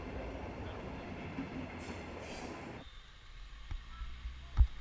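Rumble and rattle of a passenger train carrying riders from Lod toward Tel Aviv, a steady broadband roar that drops abruptly partway through, then quieter running with a couple of sharp clanks near the end.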